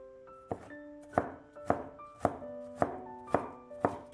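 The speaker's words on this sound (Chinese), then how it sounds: "几瓣大蒜先给它拍扁，再改刀切成蒜末" A knife chops garlic cloves into mince on a board, with seven evenly spaced sharp thuds and a faint ringing tone in the quiet between strikes.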